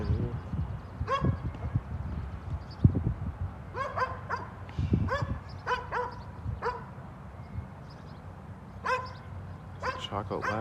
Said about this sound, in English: There's a dog barking here.